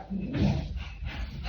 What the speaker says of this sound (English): Was my dog acting crazy for a minute there and cutting me off.